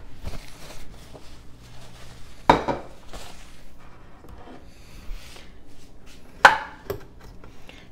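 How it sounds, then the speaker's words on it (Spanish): Frozen guava pulp being cut in a kitchen, heard as quiet scraping and tapping of a knife with two sharp knocks against a dish or board, spaced apart, no talking. "la pulpa de guayaba congelada. Creo que esta la vamos a tener que cortar."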